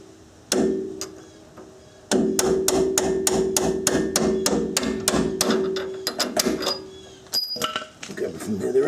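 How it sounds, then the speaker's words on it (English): A mallet repeatedly strikes a simple nail setter to drive out a fastener, a close series of sharp metallic hammer blows in quick rhythm that stops and restarts, ringing over a faint steady hum. "this is just a simple nail setter, just to drive out the fastener"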